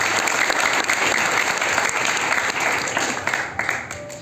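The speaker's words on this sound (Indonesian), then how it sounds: "Aplaus buat komunitas kita." An audience applauds at a community gathering, a dense, steady clapping from many hands that fills the room for several seconds and fades slightly toward the end.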